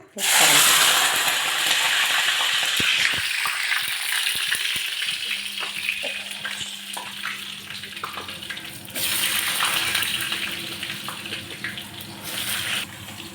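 Dried red chillies sautéing in a pan give a steady, loud, hissing sizzle that runs throughout, with occasional clinks and a brief swell midway.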